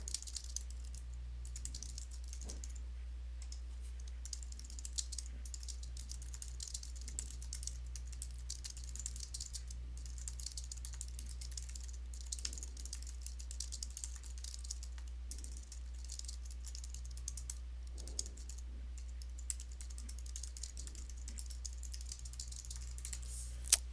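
Quiet, rapid typing on a computer keyboard while a survey is being built, a steady patter of soft key clicks over a low electrical hum, with no voices.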